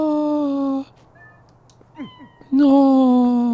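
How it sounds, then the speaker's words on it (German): Cats meowing in the video game The Legend of Zelda: Twilight Princess: two long, loud, drawn-out meows separated by a quiet pause, with faint softer game sounds in the gap. "So viele Katzen, die hier wohnen."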